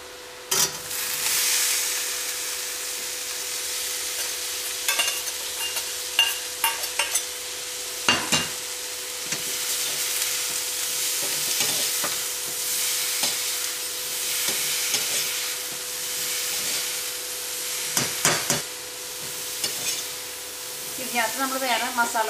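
Cooked beef being stirred and fried in a pan for Kerala-style beef fry, a steady close sizzle with repeated scraping stir strokes and occasional sharper clinks, no talking.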